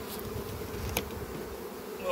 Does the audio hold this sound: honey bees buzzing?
yes